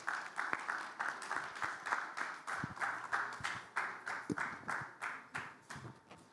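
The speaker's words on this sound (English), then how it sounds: "Please welcome her with a good round of applause." A plenary conference audience gives a round of applause for an arriving speaker: steady, dense clapping from many hands, moderately distant and even, with a faint rhythmic pulse throughout.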